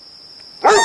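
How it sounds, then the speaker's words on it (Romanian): A single loud, close dog bark breaks in at the very end, after a steady thin high tone that fills most of the moment. "câinele lătra"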